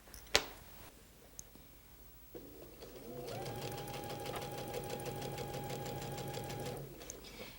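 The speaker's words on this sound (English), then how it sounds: "here I'm going to sew right across" A sewing machine stitches across pieced quilt blocks, running in a steady, close, rapid mechanical chatter for several seconds after a few sharp clicks and handling noises.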